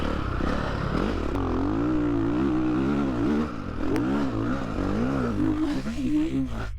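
A Ducati Desmo motorcycle accelerates hard, its engine note climbing in loud rising and falling sweeps as the rider works through the gears, heard close with wind noise and a voice talking over it.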